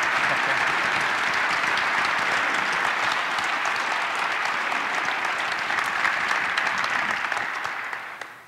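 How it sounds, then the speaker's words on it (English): Lecture audience at the University of Maine's Cohen Lecture applauding guests: dense, sustained clapping from a large hall crowd, loud and even for about eight seconds before fading out at the end. "Please give our guests a round of applause."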